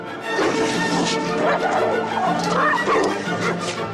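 Several dogs bark, yip and whimper close by in an office, with sharp overlapping bursts running throughout and some clattering mixed in.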